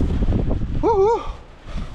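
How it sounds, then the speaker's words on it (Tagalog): Gusty wind buffets the microphone at an RV campsite, low rumbling noise briefly interrupted by a short warbling tone in the middle. "Hangin guys."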